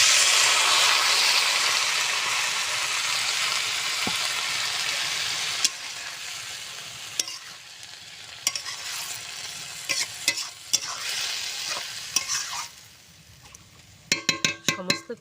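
Water splashed into a hot pan of water spinach sets off a loud, steady hiss that gradually dies down, followed by clattering spoon stirs and scrapes, close by, with no one talking.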